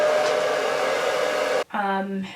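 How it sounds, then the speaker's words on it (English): A blow dryer running on its cool setting while styling short natural hair, a steady loud whooshing hum that cuts off abruptly and then returns with a different, tonal whine. "I'm going to use my blow dryer on cool settings"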